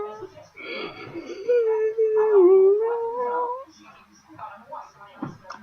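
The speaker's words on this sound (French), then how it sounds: "Ah, c'était un chiot." A young dog whimpers and lets out a wavering, drawn-out howl, with some overlapping chatter and background sounds.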